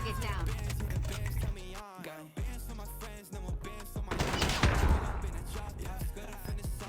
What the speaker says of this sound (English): Here, I shoot at the surface behind the man and not the man itself.